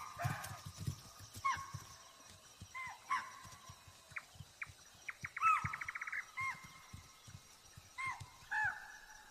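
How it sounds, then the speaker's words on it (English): Deer give repeated sharp barking alarm calls in bursts, some rapid and stuttering, in response to a nearby tiger, over a quiet natural background with scattered bird-like chirps. "the deer respond to the tiger's presence, barking warning calls loud and clear"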